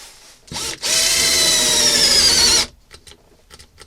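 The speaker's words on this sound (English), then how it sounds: "I need my bread point bit to drill down" A power drill with a brad point bit spins up and bores into wood with a loud, steady high whine for about two seconds, then cuts off, leaving faint knocks and handling noise.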